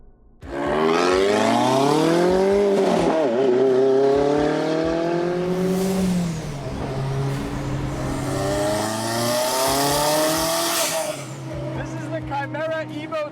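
A Kimera EVO37, a Lancia-styled restomod supercar, revs hard nearby, its engine note sweeping up and down through loud gear-change swells before settling and rising again.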